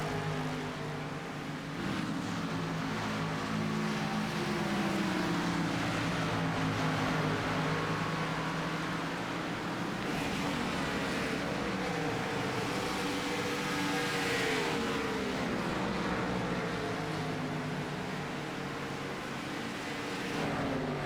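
Race car engines at Motegi in a sim racing game drone steadily for about twenty seconds, with layered engine tones rising and falling as cars jostle close together, loud and continuous without pause.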